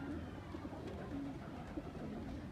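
Baby high-flying pigeons in Faisalabad, giving soft, low coos beneath a dense, steady background of noise and murmur.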